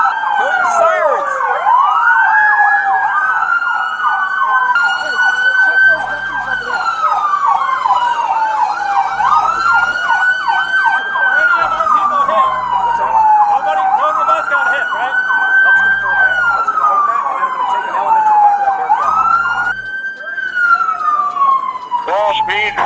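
Loud wailing police sirens sweep up and down continuously, several overlapping cycles with a steady yelp, close and dominant throughout with a faint vehicle rumble beneath.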